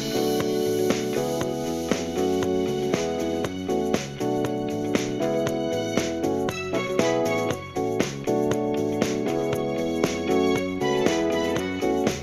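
Music sample played through an Edifier MP8 portable mini speaker, a full rhythmic song with steady beats and sustained tones, continuous and fairly loud with no talking.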